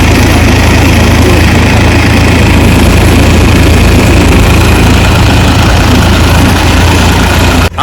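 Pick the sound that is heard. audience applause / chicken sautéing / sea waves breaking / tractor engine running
tractor engine running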